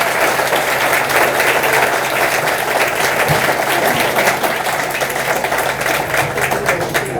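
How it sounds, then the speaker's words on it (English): An audience at a Hall of Fame ceremony gives the kids loud, sustained applause, a dense and continuous wash of many hands clapping at once, without talk. "can we just give the kids a round of applause"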